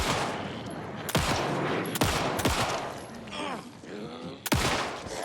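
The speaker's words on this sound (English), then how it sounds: "I gotta stop just going wild on these shots" Sharp gunshots fired in Alan Wake 2, roughly four loud separate blasts spaced about a second apart, with game noise and a groaning voice under them.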